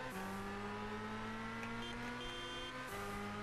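A car in Gran Turismo 6 drives with a buzzing, harmonic engine note that climbs steadily, drops sharply at a gear change near the end and then climbs again, with no talk.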